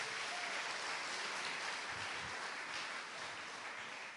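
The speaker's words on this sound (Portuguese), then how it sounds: "Uma salva de palmas para Jesus" A church congregation applauds during a sermon, a soft, distant wash of many hands clapping that holds steady and then eases slightly toward the end.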